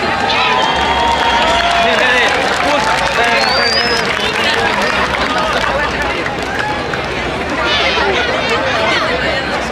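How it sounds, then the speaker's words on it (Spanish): A large crowd at a Salvadoran festival claps and cheers loudly and continuously, with a dense roar of voices and whistles throughout. "Quiero por favor que la reciban con un fuerte aplauso."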